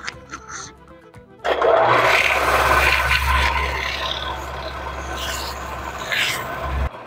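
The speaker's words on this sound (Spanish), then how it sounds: "Lo vamos a lijar con esta lija que es más fina y que queda más bonito todavía." Fine sandpaper, likely on a power sander, works a handmade wooden plate with a steady whirring scrape, loud and continuous after a quiet start, with brief music at the start.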